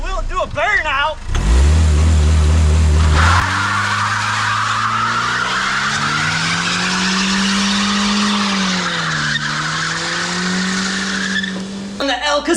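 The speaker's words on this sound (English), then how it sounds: "Burnout." A Saturn car converted into a pickup truck revs hard into a burnout, and its engine howls over a long, loud tire squeal that holds for roughly ten seconds before stopping abruptly, with speech heard at the start.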